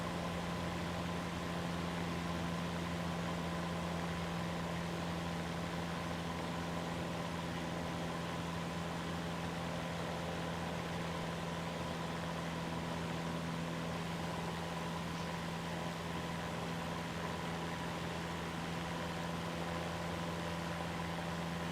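A simulated aircraft engine idles steadily in Microsoft Flight Simulator 2024, a constant droning hum with a strong low tone that runs unbroken and evenly loud throughout, with no talking over it.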